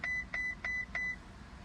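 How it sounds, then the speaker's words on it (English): Repeated electronic beeping from a Ferrari California T at startup, four evenly spaced short tones in a steady rhythm, close and clear, with no talking. "you put your foot on the brake, wait for it to stop beeping"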